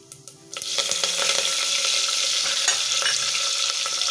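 Cumin, asafoetida and curry leaves hit hot oil in a pan, a sudden loud sizzle that sets in after a few faint clicks and holds steady and close, with no talking.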